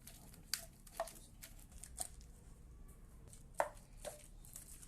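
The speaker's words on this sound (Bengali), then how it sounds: "এখন সবগুলি একসঙ্গে থেতু করে নিচ্ছি।" Mixed cabbage, chili and onion mashed together by hand, giving soft irregular squelching and crunching taps at a slow uneven rhythm, close but faint, with no talking.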